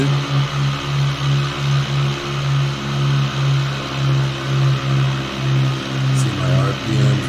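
Small airplane piston engine held at 2,000 RPM during a magneto check on the ground, a steady loud drone with a rhythmic throbbing pulse; the note dips briefly near the end as RPM drops.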